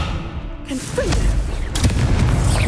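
A Confringo blast spell cast in the Hogwarts Legacy video game bursts out as a loud booming impact, with a sharp crackling blast near the middle and another burst toward the end over a dense rumbling game background.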